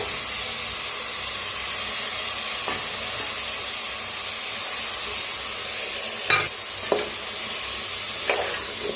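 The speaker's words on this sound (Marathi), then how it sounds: "तर सगळं मिक्स करून भाजूया। त्याच्यातच टाकूया वांगी बी, बटाटो दोन्ही बी टाकलेले आहेत" Brinjal and potato pieces stir-fried together in a pan, giving a continuous bright sizzle and hiss with a few sharp clanks of the spatula stirring, close up and without speech.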